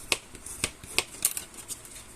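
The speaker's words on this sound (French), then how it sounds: "il faut bien marquer le pli" Paper being firmly creased by hand while folding an octagonal album, giving several short crisp rubs and snaps spaced unevenly, close and fairly quiet with no talking.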